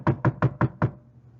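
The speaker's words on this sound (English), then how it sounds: "He knocked on the door." Five firm knocks on a wooden door, evenly spaced and close, each a crisp hollow rap, followed by quiet.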